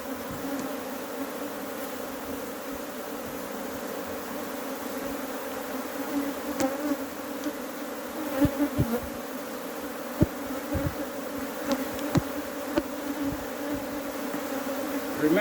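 Africanized honey bees swarm around an open hive in Trinidad, a dense, continuous buzzing hum close by, with occasional louder passes of individual bees near the end.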